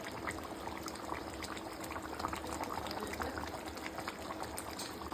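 Chicken curry with garam masala simmering in hot water, a steady low bubbling and hiss that stays even and close throughout, with no talking.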